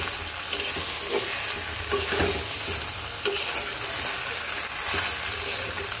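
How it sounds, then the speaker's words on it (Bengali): Chicken pieces for a chicken biryani are stirred and mixed in a pot, a steady scrape and sizzle with a few sharper clinks, close and fairly loud with no talking. "তো সব কিছু একসাথে সুন্দর করে মিক্স করে দিলাম।"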